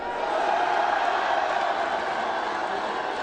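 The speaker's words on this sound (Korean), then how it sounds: "지지자들이 태극기를 흔들며 환호성을 내지는 겁니다" A crowd of supporters cheers and shouts steadily while waving Taegukgi flags at a Korean political rally event, a dense, continuous roar of many voices filling the space without pause.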